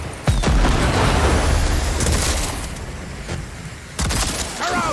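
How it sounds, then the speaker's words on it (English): Grenades go off in a Cyberpunk 2077: Phantom Liberty firefight, loud booming blasts with a sustained rumbling roar that fades and then flares again with another burst near the end. "Watch out for grenades!"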